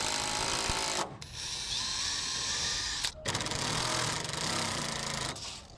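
A power driver sinks a screw into a deck joist to hold a datum board, a loud steady whirring drone running in long bursts with short pauses between them.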